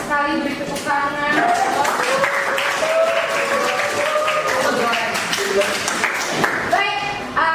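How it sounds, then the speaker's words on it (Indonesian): A classroom of students applauds at the end of a lesson, steady clapping running for several seconds with voices and cheering mixed in throughout. "beri tepuk tangan"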